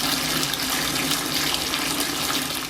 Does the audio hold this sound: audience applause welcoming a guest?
no